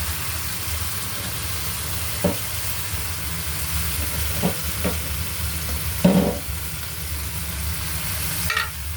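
Bitter gourd (ampalaya) tossed into a pan already frying with chicken powder, giving a steady loud sizzle throughout, broken by several scraping stirs and clanks of a utensil, with no voices.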